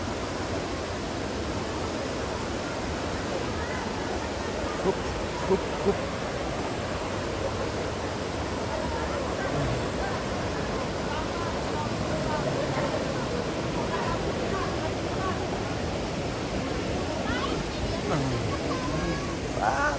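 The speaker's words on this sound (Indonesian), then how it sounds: "Kita ke curugnya air terjun." Steady roaring rush of the Curug Leuwi Hejo waterfall in Sentul, Bogor, a dense continuous wash of falling water heard close and loud throughout, with faint footsteps and movement.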